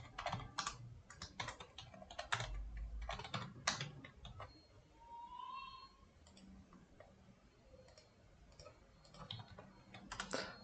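Quiet, rapid clicking of keys being typed on a computer keyboard at a desk, in uneven bursts with short pauses, close but soft.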